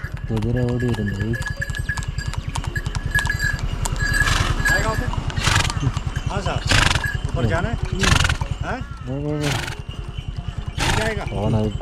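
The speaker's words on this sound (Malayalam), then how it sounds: "കുതിര ഓടി വരുന്നത്" A horse whinnies and neighs several times, loud and close, with a steady engine-like hum running underneath and a person talking in between.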